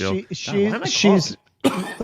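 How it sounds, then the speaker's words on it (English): A person speaks briefly, then breaks into a short, harsh cough after a pause; close and fairly loud. "I'm coughing constantly."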